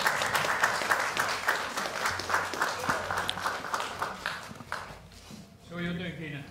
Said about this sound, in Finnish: Taputtaminenkin on liian tavanomainen kiitos.